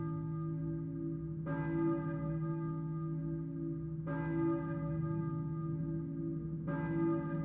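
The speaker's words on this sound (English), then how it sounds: "I hear a church bell, maybe? Who is ringing the bell?" A church bell rings in a game, three clear strikes several seconds apart. Each strike rings with a bright metallic tone that hangs and slowly decays over a steady low hum, with no voices.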